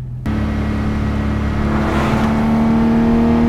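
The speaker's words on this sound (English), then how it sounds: "It shifts every time. It downshifts." A Volkswagen R32 with an automatic transmission, engine starting abruptly then droning steadily while driving, a sustained tone shifting slightly in pitch as the gearbox changes gear, loud and close from inside the car.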